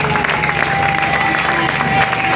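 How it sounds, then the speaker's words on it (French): Audience applause at a political party rally, steady and dense clapping mixed with crowd noise and some cheering, continuous throughout. "Sous vos applaudissements, s'il vous plaît."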